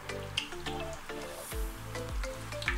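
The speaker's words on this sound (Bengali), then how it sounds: "একদম গরম তেলে মোগলাইটা ছেড়ে দিয়েই চুলোর আঁচটা মিডিয়াম করে দেব, আর মিডিয়াম আঁচেই মোগলাইটা ভাজতে হবে।" A mughlai paratha fries in hot oil over a medium flame, giving a soft, continuous sizzle with small pops and crackles close up and no talking.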